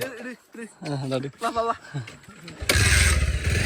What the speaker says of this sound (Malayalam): silencer sound